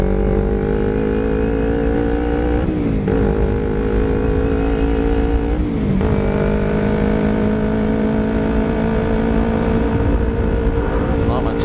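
A Kawasaki Ninja 250R motorcycle cruises steadily with a loud, continuous engine drone, its pitch dipping briefly twice during gear changes before settling back into an even hum.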